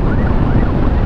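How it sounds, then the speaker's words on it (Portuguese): An ambulance with its siren on moves slowly along a road, its wail blended into steady, loud engine and wind rumble heard from a Yamaha motorcycle. "essa ambulância aqui tá com a sirene ligada"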